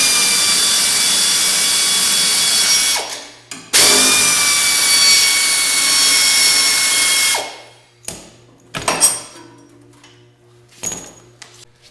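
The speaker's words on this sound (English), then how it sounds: "So we're going to take a 9/16 and remove these 2 bolts." Loud power tool whine running steadily on an Ariens snowblower while two bolts are removed, cutting off, starting again, then stopping, followed by scattered metallic clinks and clatter of tools.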